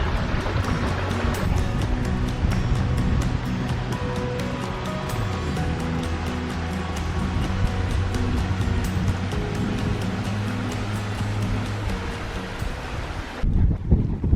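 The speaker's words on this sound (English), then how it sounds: "So now we're heading back down the other side of the canyon in the wind" Steady wind roars across the microphone on a canyon hiking trail in Guadalupe Mountains National Park, a loud continuous rush with gusty swells that drops off sharply near the end.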